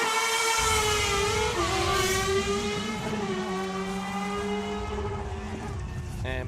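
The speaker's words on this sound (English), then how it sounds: "plenty of noise from the start line as Josh Silcock gets underway for his second qualifying run" A race car, car 56, pulls away from the start line on a qualifying run at the Christchurch Street Sprint 2025. Its engine is loud and close, rising and falling through rapid revving sweeps as it gets underway.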